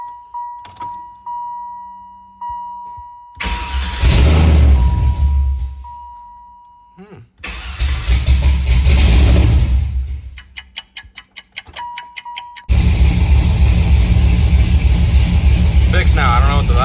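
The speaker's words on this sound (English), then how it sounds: "First startup with the new exhaust." An LS-swapped V8 in a K1500 truck with new long-tube headers and 3-inch exhaust cranks and roars to life twice, idling loud and rumbly between bursts, with clicking and a brief stall in between.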